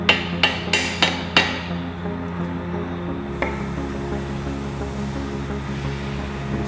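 A rawhide mallet taps a hinge pin through a metal manway, striking five quick, ringing blows in a row and then one last tap over a low background hum, no talking.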